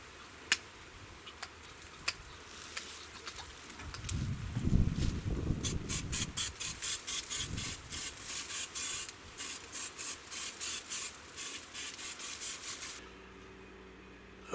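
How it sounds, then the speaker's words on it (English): A spray bottle spritzes a Boston butt pork roast in a smoker with a quick series of soft rhythmic hissing pumps, faint and close, with a few light clicks and rustles around them. "time for the final spritz"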